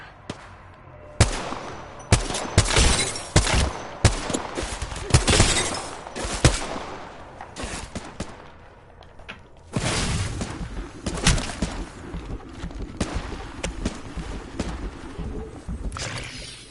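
Gunfire in the video game Apex Legends, played on PS4: bursts of rapid shots and sharp cracks that come in clusters, with short pauses between them. Nobody speaks.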